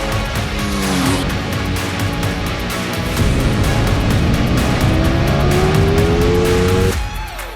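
A 2023 Ducati Streetfighter V4 S motorcycle on a race track, its engine loud and constant, with rising revs climbing through the gears and a brief downshift before the sound drops near the end.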